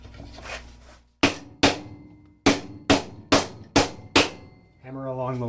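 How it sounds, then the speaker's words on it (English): Seven sharp hammer blows strike a length of wood laid along guitar body blank halves, loud close knocks in an uneven rhythm, with a voice starting up right after. "Hammer along the length so that you're confident the halves are flat"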